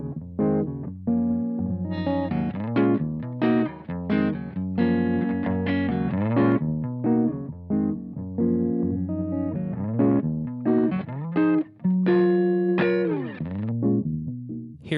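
The NativeAudio Niisoo harmonic equalizer in low pass mode at its upper bound gives a steady, loud stream of bright, full harmonic music with a chorus-like shimmer and only brief dips, without any voices.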